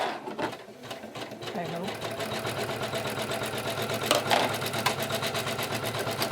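An embroidery sewing machine runs steadily with a fast, even mechanical rhythm, loud and close, while a person briefly speaks over it.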